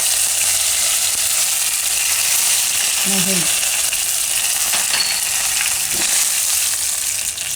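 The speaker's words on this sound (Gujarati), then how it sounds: "તેલ આપણું ગરમ થઈ ગયું છે એમાં જીરું નાખશું" Cumin seeds and curry leaves sizzle steadily in hot oil, a loud, continuous frying hiss throughout with brief crackles, as the base for a Gujarati onion-potato curry.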